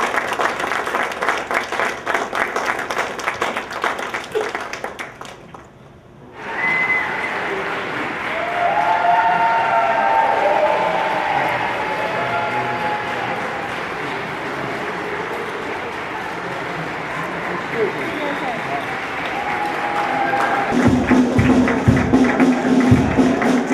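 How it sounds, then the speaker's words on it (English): An audience applauds a WWII veteran and Purple Heart recipient, a dense and sustained clapping that fills most of the stretch. It dips briefly near the start, then swells again and continues strongly to the end. "give me a nice round of applause for Arthur Monteverde"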